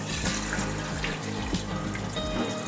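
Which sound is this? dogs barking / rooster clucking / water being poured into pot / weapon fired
water being poured into pot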